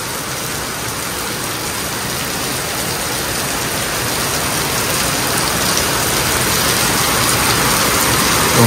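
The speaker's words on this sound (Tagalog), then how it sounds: "Tumapatak na naman ang ulan sa bubong ng bahay." Heavy rain drums on a house roof in a dense, loud, continuous wash of patter that holds steady throughout and swells slightly near the end, with no voices.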